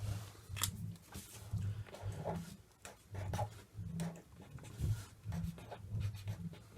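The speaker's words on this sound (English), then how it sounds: "actually let's write on here." Pen scratching on paper while writing on a handmade one-page book, close and steady with short repeated strokes and pauses, no talking.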